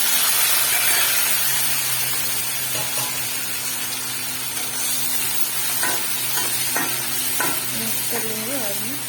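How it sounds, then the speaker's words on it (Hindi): Garlic and dried red chillies fry in a pan with a steady, close sizzle, broken by several sharp clicks of stirring near the end over a low constant hum. "सूखी लाल मिर्ची, और मिर्ची को भी अच्छे से फ्राई होने दूँगी"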